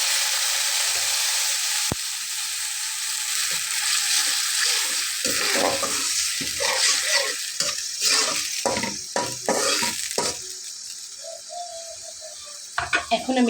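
Water from rinsing the fish-marinade bowl is poured into onions frying for a fish curry. A steady hiss rises, then the sizzle breaks into uneven bubbling and stirring scrapes.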